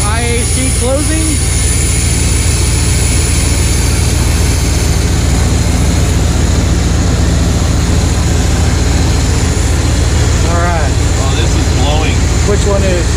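A car engine with an exhaust leak runs continuously, producing a loud, steady rumble and breathy blowing noise, with people talking over it.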